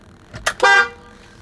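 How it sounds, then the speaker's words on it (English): Horn on a Tesla Model Y, fitted with Fusion Motorsports upgrades, sounds a short tap and then one steady blast of under half a second, close and loud, with no talking. "When you honk, you got it in there right."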